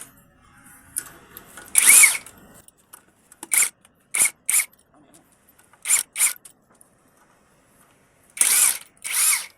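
Power tool, likely an impact wrench, removing the rear wheel nuts of a Hangcha electric tow tractor during field service: a series of short, loud buzzing bursts in pairs and singles with pauses between them, close by.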